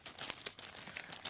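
Thin plastic bag holding a silk scarf crinkles softly at close range, with scattered quick rustles and crackles over about a second and no talking.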